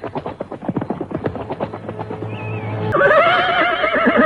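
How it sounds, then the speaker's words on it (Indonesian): Hooves of a group of horse riders clop in a rapid, uneven rhythm, then a horse lets out a loud, drawn-out whinny close by. "Ada rombongan orang berkuda."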